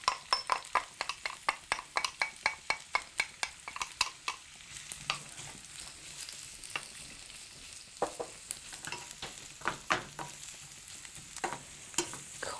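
Onions being stirred and coated in a pan: a quick run of rhythmic scraping strokes close up, slowing into sparser stirs over a soft sizzle, with no talking.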